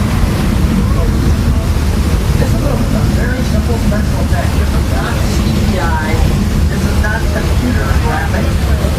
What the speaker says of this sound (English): All the water immediately dumps out of the tank and it naturally rolls downhill.